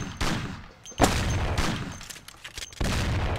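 Bursts of gunfire in the Mafia video game, with several loud, close shots in a dense rapid cluster, some pauses between volleys, and no talk over them.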